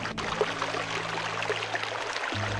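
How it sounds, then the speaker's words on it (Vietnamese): A clear, blue-green stream flows steadily with a continuous wash of rushing water. A low, steady hum runs underneath, and no one speaks. "Bên cạnh đó là một dòng suối trong xanh"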